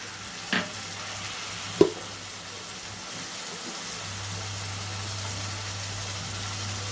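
A coriander, garlic and green chili paste is stirred into eggs frying in a pan, with a soft continuous sizzle, a couple of sharp utensil knocks early on and a low steady hum.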